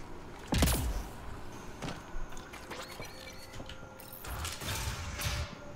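Door mechanism unlocking in the Mass Effect Andromeda video game, a series of mechanical clunks, whirs and creaks with a brief hum, moderately close and heard alone.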